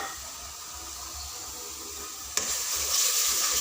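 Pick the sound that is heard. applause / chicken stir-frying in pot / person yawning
chicken stir-frying in pot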